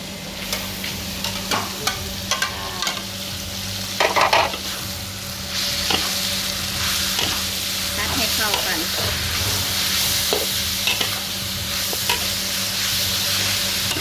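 Aromatics stir-frying in a hot pan, with a steady, loud sizzle and repeated scraping and tossing strokes close by, over a low constant hum.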